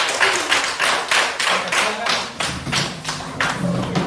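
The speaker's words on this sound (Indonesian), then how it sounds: "Oke, tepuk tangan untuk kita semua." A classroom group claps in quick rhythmic bursts, loud and close, the claps landing roughly in time with one another for a few seconds.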